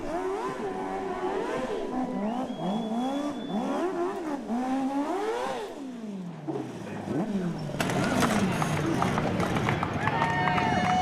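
A race car spins donuts in the infield after a win at a 2012 Race 4 Life event, its engine revving and wailing in rising and falling sweeps before it cuts out. Crowd noise then swells and a voice speaks over the scene.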